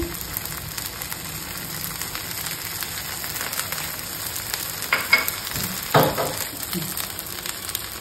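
Oil sizzling steadily around a rava dosa frying on a hot pan, a close, continuous crackling hiss with a couple of brief louder bursts.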